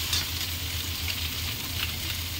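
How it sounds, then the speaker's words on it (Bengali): Soybean chunks fry in hot oil, giving a steady, close sizzle with a soft crackle that runs unbroken throughout. "সয়াবিনটাও এরকম লাল লাল করে ভেজে নেবো"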